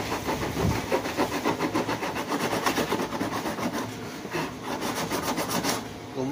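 Fifty-grit sandpaper scrubs a 100-liter plastic water drum in quick, regular back-and-forth strokes, a rough rasping rhythm heard close and fairly quiet.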